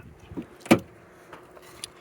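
The tailgate of a 2000 Jeep Wrangler TJ hard top is opened: a soft latch click, then a sharp metallic clunk and a few lighter rattles and knocks, close by.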